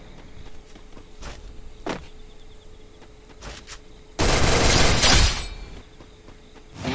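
Gunfire in the Free Fire battle game: a few sharp single shots early, then a dense loud burst of rapid fire lasting about a second, with faint game ambience around it and no talk.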